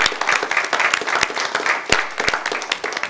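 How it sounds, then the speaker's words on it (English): A round of applause fills a city council meeting room, with brisk, dense clapping from a modest crowd and a few sharper individual claps standing out, steady for the full few seconds. "I think we all owe him a round of applause"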